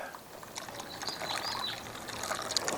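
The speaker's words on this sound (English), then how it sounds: "Might as well add just a little bit more water while I have the lid off." Water poured into a Weber Jumbo Joe charcoal grill fitted with a Slow 'N Sear during a baby back rib cook, a steady close trickle and splash lasting a few seconds with no talk.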